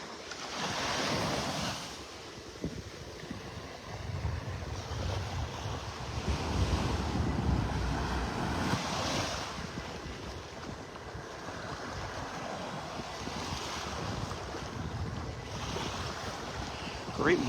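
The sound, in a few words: ocean waves and breeze on beach in North Naples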